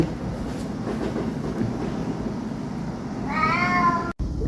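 Rumbling background noise like a moving train, then near the end a cat lets out a short, loud, drawn-out yowl before a sudden cutoff.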